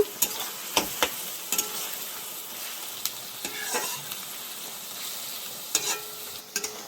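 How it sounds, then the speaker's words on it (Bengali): Onions fry in oil in a pan on a high flame, giving a soft continuous sizzle broken by sharp scrapes and taps of a spoon stirring them, fairly quiet and close, with no voices. "পেঁয়াজটা আমি হালকা লাল করে ভেজে নেব, একদম ডিপ লাল করব না, হালকা।"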